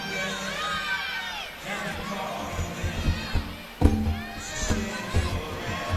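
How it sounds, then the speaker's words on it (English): Spectators at a college gymnastics meet, Alabama at Florida, cheer and whoop loudly in a large arena, with a sharp burst of louder cheering partway through. A sustained crowd roar runs underneath. "The crowd loves that every time."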